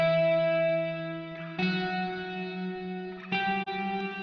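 A sustained, distorted tone swells with lush reverb and a stereo ping-pong delay with modulation giving chorus-like shimmer on the repeats, renewing twice as new notes strike and echo tails linger.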